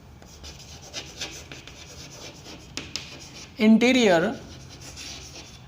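Chalk or marker rubs and scratches across a board in short strokes, faint and scratchy, while a voice speaks intermittently over it.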